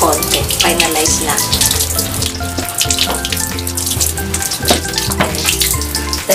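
Harvested chico fruit are washed under running water, a steady close splashing rush with intermittent clatter of fruit and hands moving in the stream, without talk.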